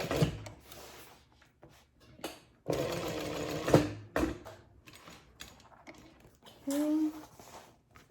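Sewing machine stitching a backpack close to a D-ring, with several short, close bursts of running stitches separated by pauses, and someone talking quietly in between.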